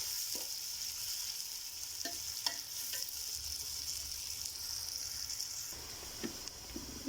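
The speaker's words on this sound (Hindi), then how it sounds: "प्याज को फ्राई करने लगेंगे।" Onions fry in a pan with a steady, soft sizzle and a high hiss, broken by occasional light scrapes and taps of a stirring spoon, with no talking.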